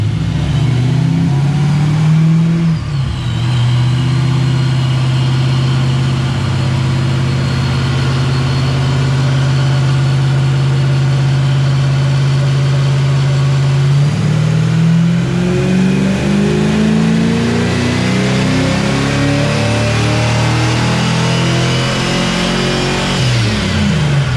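A boosted car engine revs hard on a dynamometer, loud and close, climbing steadily in pitch through a long sustained pull, dropping back briefly, then rising again to high revs.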